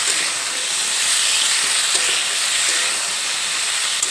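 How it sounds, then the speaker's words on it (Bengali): Cauliflower and green peas frying in a wok, giving a steady, loud hissing sizzle that runs unbroken throughout with no talk. "এখন এর মধ্যে কড়াইশুটিগুলো দিয়ে দিলাম কড়াইশুটি দেওয়ার পরে আরও দুই মিনিটের মতো একটু ভেজে নেবো"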